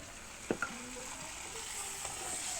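Drumstick leaves frying in a little oil with paste, a soft steady sizzle with a couple of spatula taps early on, quiet and close, no speech.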